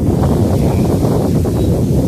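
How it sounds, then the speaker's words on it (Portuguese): Strong outdoor wind buffeting the microphone at a farm vegetable garden, a loud, steady low roar that fills the whole clip without letting up, with no talking. "O vento aqui tá meio brabo"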